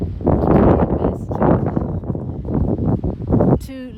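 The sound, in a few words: wind blowing outdoors into the microphone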